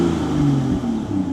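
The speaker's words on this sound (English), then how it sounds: "Let's give it a rev." A BMW M2 engine revs at idle, a steady low mechanical rumble with a slight swell, close and continuous for a short moment with no talk.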